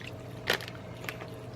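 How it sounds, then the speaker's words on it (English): A brief splash of water poured into a pan of sticky, cheesy Korean seafood noodles, one short wet burst followed by a fainter second drip over steady background hum, no talking. "I'm just gonna add a little water."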